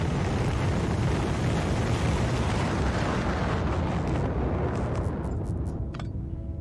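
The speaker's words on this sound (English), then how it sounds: "I should watch the rockets go." Science rockets launch in the Factorio Space Exploration mod with a loud, sustained roaring rumble that fills the scene, then thins and fades toward the end as faint clicks emerge.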